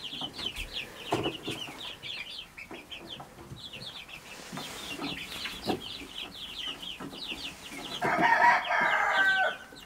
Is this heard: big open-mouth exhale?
no